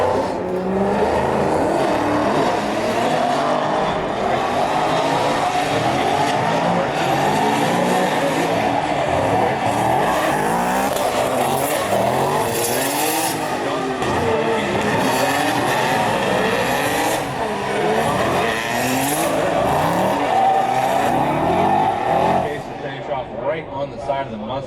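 At a Great Lakes Pro Am drift competition, a Mustang leads another car through a tandem battle, engines roaring with bursts of tire squeal and skidding under continuous commentary.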